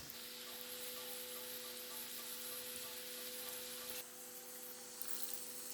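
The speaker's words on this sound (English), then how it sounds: "Add the mushrooms to the pan and season with salt and pepper to taste." Mushrooms frying in a pan with butter, garlic and thyme, a steady bright sizzle and hiss throughout with a faint tonal hum underneath, close and even, briefly dipping near the end.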